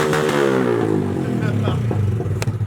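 A Honda Grom motorcycle engine with a newly installed exhaust revs up with a rising exhaust roar, a harsh, close mechanical growl over a few seconds.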